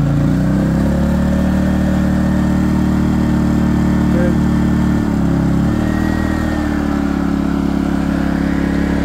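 An Erayak 4500PD generator running on propane under a heavy load, a loud steady engine drone with a brief dip in pitch midway.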